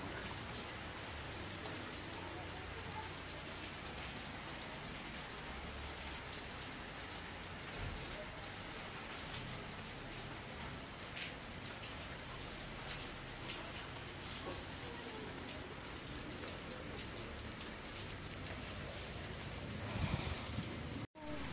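Steady rain falling on an outdoor surface, a continuous soft hiss of drops lasting throughout, fairly quiet and even, with a brief louder rustle near the end.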